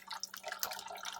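Water trickles and drips from a Lego-built waterfall cooling fan, a faint, close, irregular patter of splashing droplets with no talk.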